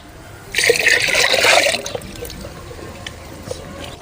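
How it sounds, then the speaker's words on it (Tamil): Buttermilk left over after the butter was taken out is poured for a spiced summer drink, giving a short, fairly loud splashing pour of just over a second that fades into quiet room sound. "வெண்ணெய் எடுத்து வச்ச மோரை இதையும் ஊற்றிக்கலாம்."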